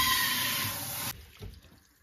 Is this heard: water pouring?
yes